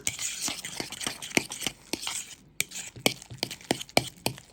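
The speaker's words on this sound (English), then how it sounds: "you just want to keep mixing until everything's incorporated together and you get just a creamy mixture" Deviled egg yolk filling stirred in a bowl, a utensil tapping and scraping against the sides in a quick, irregular rhythm of close, light clicks with no talk.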